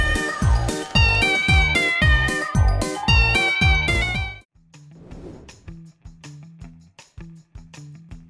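Meme song built from cat meows: a bouncy rhythmic run of loud pitched meow notes over a thumping beat, then a sparser, quieter plucked section with scattered tones.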